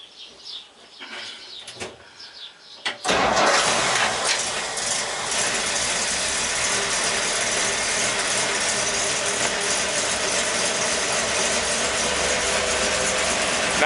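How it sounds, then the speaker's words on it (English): A 1959 Ford Mister Softee ice cream truck engine cranks briefly with the choke pulled, then catches and roars into a loud, steady, rough idle that runs on close and unbroken. "I need to pull the choke, get it started, and then reduce the choke as I go."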